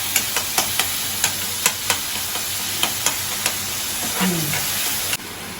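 Chopped tomatoes frying in oil over medium heat and being stirred, a steady close sizzle with a regular series of sharp spoon taps against the pan, and a brief scrape and shift in tone near the end.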